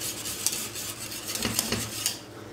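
A spoon scrapes and stirs through thick soup in a metal pot, producing soft repeated rubbing strokes with faint clinks, close and fairly quiet.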